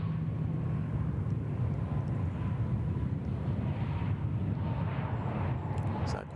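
A Qantas airliner landing on the runway at Sydney Airport: a continuous, fairly loud jet roar with a low rumble and wind buffeting, steady from start to finish.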